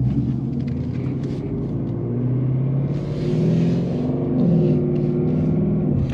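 Ford Mustang with a 10-speed automatic driven in sport plus mode, a steady loud engine rumble from inside the car, swelling slightly as it accelerates, with no talking.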